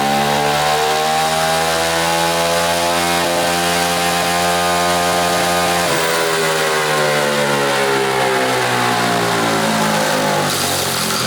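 A 125cc turbocharged go-kart engine runs hard on a dyno, a loud, sustained buzzing drone whose pitch sweeps up and down as the revs change, close and alone.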